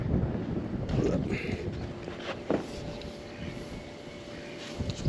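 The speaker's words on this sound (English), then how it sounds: "It's windy a little bit." Gusty wind buffets the microphone during snowstorm fishing, rushing and thumping in uneven bursts along with faint handling and distant background sounds.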